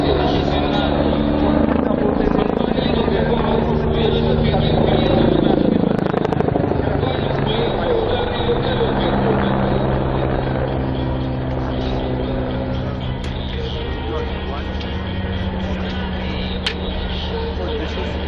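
A helicopter performs a flying display at the MAKS 2017 air show near Moscow, its loud, steady rotor and engine roar filling the air throughout, with a swelling pass midway and a public-address voice talking over it.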